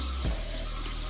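Cold tap water runs from a faucet over cooked pasta in a strainer, a steady close splashing hiss with a brief louder gush near the start.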